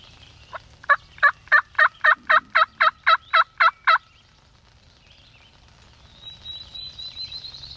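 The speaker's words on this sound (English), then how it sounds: "We got one gobbling. Sounds like he's behind us." A wild turkey gobbler gobbles in a spring woodland hunt, a loud rapid burst of about a dozen rattling notes from fairly close, followed by quiet and a faint high bird call.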